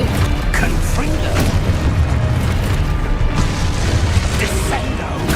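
Loud, dense explosive booms and crashing blasts from Confringo spells cast in the Hogwarts Legacy video game, layered continuously with game noise.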